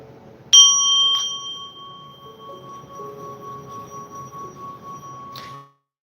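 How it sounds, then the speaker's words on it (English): A bell is struck once, giving a clear bright ring that sustains and slowly fades over several seconds, close by and heard alone, with a faint second touch partway through. "I'm gonna like hit the bell."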